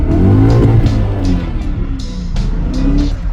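A 2003 BMW M5 E39 engine revs hard under load as its worn clutch slips, producing a loud, sustained rising-and-falling drone with a tire-squeal-like edge, steady throughout and with no talk.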